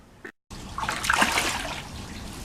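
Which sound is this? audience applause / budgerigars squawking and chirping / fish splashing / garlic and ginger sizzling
fish splashing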